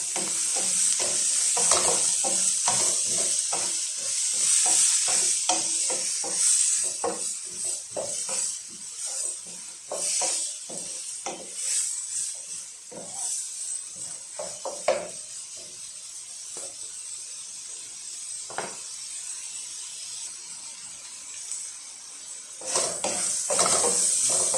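Green peas and finely chopped capsicum stirred while frying in a pan for Chinese fried rice, with a steady sizzle and hiss under repeated scraping and clinks of a spoon against the pan, close and continuous.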